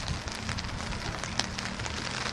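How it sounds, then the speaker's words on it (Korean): Rain beginning to fall at night beside the Han River, a steady close patter of drops across the whole stretch with one sharper tap near the middle and no voices. "2시가 조금 넘었는데 비가 내리기 시작하고 있습니다."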